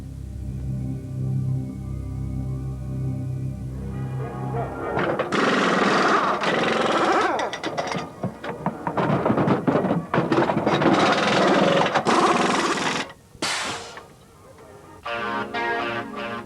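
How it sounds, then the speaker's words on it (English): A 1994 IndyCar pit crew practises changing all four wheels and tyres, with rattling bursts from air wrenches and sharp mechanical thunks following a low, steady hum at the start. "practicing their art, changing all 4 wheels and tyres"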